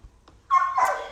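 A single sharp indoor dog bark, loud and close, following a brief quiet moment with a faint faint yip just before it.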